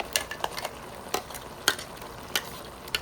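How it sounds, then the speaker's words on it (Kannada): River crab sukka being stirred in a pan after ground masala goes in, soft scraping stir strokes and light clicks of the spoon over a low frying hiss. "ಇವಾಗ ರುಬ್ಬಿಕೊಂಡ ಮಸಾಲನ ಹಾಕ್ಕೊಳ್ಳುವ"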